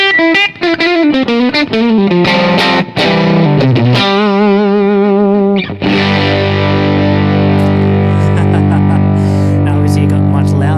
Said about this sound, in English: Let's see how it sounds like if you push the drive a little more and cause it to break up.